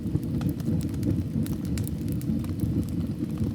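A wood fire burning in a fireplace inside a snowy Swiss mountain cabin, soft steady crackle over a low rumbling roar, with scattered sharp snaps and pops, close and gentle.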